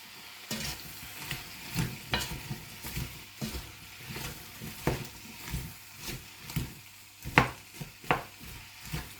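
Leeks soften in a pan with a low, steady sizzle, punctuated by repeated close scrapes and taps of a utensil stirring them at an uneven rhythm.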